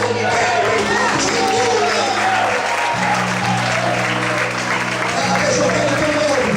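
A church congregation applauds, with sustained, dense clapping and crowd noise over a held organ or keyboard chord, while a voice talks faintly through it.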